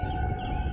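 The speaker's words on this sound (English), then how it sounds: "Tornado sirens are going off and the storm's right here" Tornado sirens wail during a severe thunderstorm in Independence, Missouri, a sustained steady siren tone heard briefly under low rumbling background noise.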